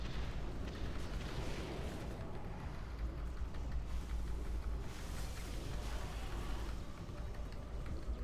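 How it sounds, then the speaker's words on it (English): Arcane Explosion spells cast in a World of Warcraft boss fight by a Frost Mage: a continuous rumbling barrage of overlapping booming blasts, fairly faint and dense, with swells and no talk. "I'm going to have to start doing some Arcane Explosions"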